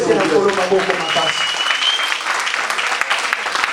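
Church congregation clapping in praise, a dense burst of applause at close range that tapers slightly, with a preacher's voice speaking over the start.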